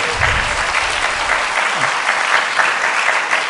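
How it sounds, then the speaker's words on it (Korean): Dense, even applause from a congregation at a church-affiliated leadership inauguration ceremony in Pohang, steady and fairly loud for the whole stretch. "박수하십시오."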